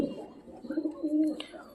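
Domestic pigeons coo nearby, a low, throaty, rolling murmur rising and falling over a couple of seconds, fairly quiet with a faint click near the end.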